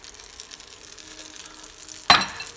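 Four beaten eggs seasoned with crushed black pepper and salt hit a hot pan, a sudden sharp sizzle bursting out of near-silence near the end and then fading quickly.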